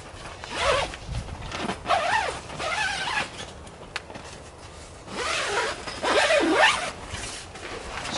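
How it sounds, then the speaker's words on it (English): Single zip running around the D-shaped door of a BlackWolf Turbo tent, canvas or polyester, pulled in several long rasping strokes with brief pauses between them, close and clear. "so it zips all the way around"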